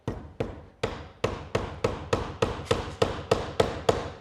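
A regulation league baseball used as a hammer to drive a nail, producing a loud, close series of about a dozen sharp knocking impacts in a steady rhythm, each strike ringing briefly before the next.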